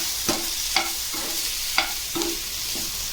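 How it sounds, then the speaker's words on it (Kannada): Mixed vegetables frying in oil with turmeric in a pan, stirred with a spoon in five or six distinct scraping strokes over a steady close sizzle. "ಇದು ಚೆನ್ನಾಗಿ ಫ್ರೈ ಆಗಬೇಕು"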